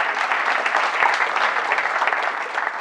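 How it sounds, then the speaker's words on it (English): Graduation ceremony audience giving sustained applause, a loud, dense wash of clapping throughout with no break. "So you guys should give yourself a round of applause for all the hard work that you put in."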